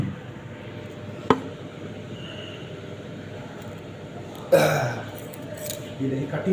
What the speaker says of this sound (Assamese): মই বিলাহী কাটিম চাই থাক বন্ধুসকল মই বিলাহী কাটিম